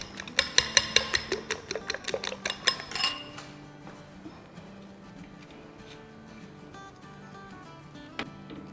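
Eggs for an omelette are beaten in a bowl with a utensil, making a rapid series of loud, close metallic clinks for about three seconds before the tapping stops and quiet background music continues.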